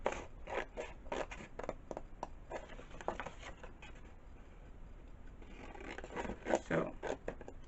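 Scissors cutting the side tabs of a cardboard DIY sticker storage box, a series of close, crisp snips coming in quick bursts, with a voice talking between them.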